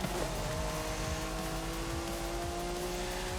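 A car in Forza Horizon 5 accelerates at full throttle, its engine note climbing steadily in a sustained, fairly quiet roar with faint rumbling underneath.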